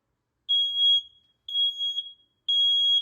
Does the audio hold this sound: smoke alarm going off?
yes